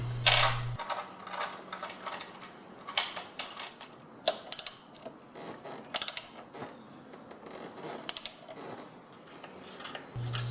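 A 7/16 inch socket tightens the bolts on a SuperBrace fork brace fitted to a Honda Goldwing GL1500, giving a run of quiet, irregular ratcheting clicks and metallic ticks up close, with no talking.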